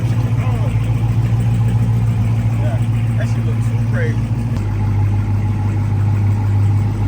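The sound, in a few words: Dodge Demon car engine idling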